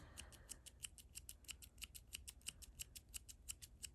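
Scissors trimming crochet yarn hair on a handmade doll: a quick, regular run of crisp snipping clicks, close and fairly soft, about four cuts per second with no talking.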